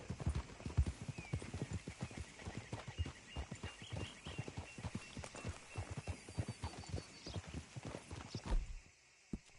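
Horse hooves in the video game Red Dead Redemption 2, a steady run of clip-clop footfalls on a dirt road for several seconds, close and clear, with a brief snort or whinny and ambient game sounds.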